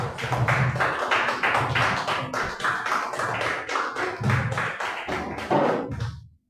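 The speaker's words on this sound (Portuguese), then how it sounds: "Gente, vamos aplaudir Jesus." A church congregation claps together during a worship service, a steady, dense run of hand claps and thuds at close range that keeps going for several seconds before stopping abruptly.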